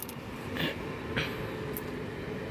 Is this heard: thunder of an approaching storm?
no